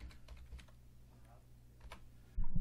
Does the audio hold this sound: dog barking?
no